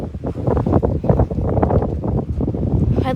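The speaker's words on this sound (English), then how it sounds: "At least the wind's blowing that way, so that's not here." Strong wind blowing during a tornado watch with a possible tornado nearby, a loud continuous buffeting roar against the microphone that runs steadily throughout.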